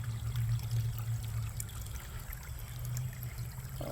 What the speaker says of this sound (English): Water trickling down there.